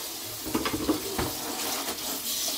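Tap water runs steadily into a kitchen sink while a dish is rinsed, with a continuous splashing hiss and a few soft knocks of dishware, close by and without talk.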